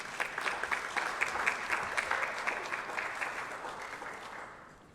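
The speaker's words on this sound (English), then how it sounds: "All right, let's go ahead and give them one more round of applause." Audience applause for speakers at a Juneteenth panel discussion on race and identity: dense, steady clapping from a room of people filling the whole stretch, then tapering off at the end, with no talking over it.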